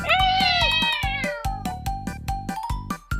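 Cartoon cat meows repeatedly in an animated story, a long bright meow followed by a string of short rhythmic notes over music with percussive hits.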